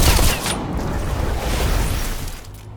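Gunfire at targets in the Train Bullet video game, a dense, loud barrage of overlapping booming shots running continuously for a few seconds and fading slightly at the end, with no clear talk.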